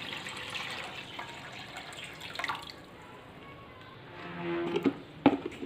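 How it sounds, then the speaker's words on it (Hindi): Water poured into a pot of boiled chickpeas, a soft steady liquid splash and trickle running through most of the clip, with a few brief clinks and drips near the end. "साथ ही इसमें मैं डाल रही हूँ पानी।"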